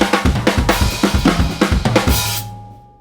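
A loud drum fill played on a full drum kit, dense rapid strokes rolling around toms, snare and kick with crashing cymbals, then a final crash ringing out and fading alone.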